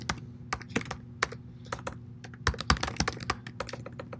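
Code is typed on a computer keyboard in a Python editor, with quick uneven runs of close, crisp keystrokes and brief pauses over a faint steady hum, and no talk.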